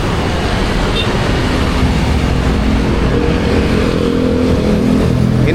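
Trucks pass on the road into Semarang at night, a loud, continuous low engine roar and tire rumble with no voices.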